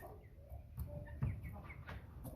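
American Bresse chicks about five and a half weeks old give soft, scattered clucks and peeps during a sorting session, faint and close, with no talk over them.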